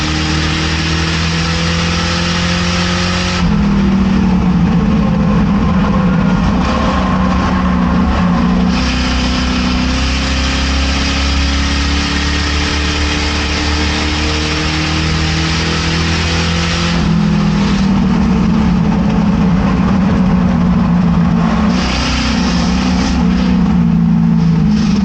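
Crown Vic race car engines roar at a racetrack, loud and sustained, with pitch swelling and falling as cars accelerate and pass, in repeated waves across the whole stretch.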